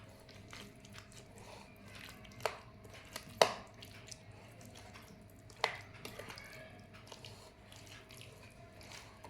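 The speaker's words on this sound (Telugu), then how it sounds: "నేనైతే మామిడికాయ పచ్చడి అయితే కలిపేసుకుంటాను ఫస్ట్ ఒకసారి" Mango pickle is mixed by hand in a bowl, giving faint, wet squelching and soft sloshing. A few sharper clicks and taps break through at intervals, and there is no talking.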